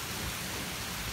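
Heavy rain pours down in a storm in Trieste, a dense, loud, continuous hiss of water striking surfaces outside an apartment, with no voices over it.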